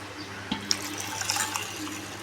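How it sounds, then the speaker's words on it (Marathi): Hot water is poured into a pot of masala dal khichdi, giving a soft splashing, filling trickle with a few small splashes and clinks, fairly quiet and close. "ह्याच्यामध्ये आपण गरम पाणी घालणार आहोत"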